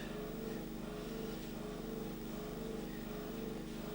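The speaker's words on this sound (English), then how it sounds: "That noise you can hear, by the way, that's our water pump started up," A steady, low mechanical hum of a well water pump running continuously in the background, faint and unchanging.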